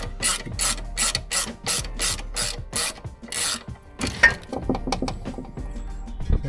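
A spanner ratchets in rapid bursts of clicks while the front strut comes off a Subaru Outback during a 2-inch lift kit install. The clicking is close and loud in the first half, followed by clanks and knocks of tools against the suspension parts.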